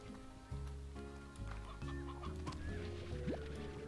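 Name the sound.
chicken clucking in a video game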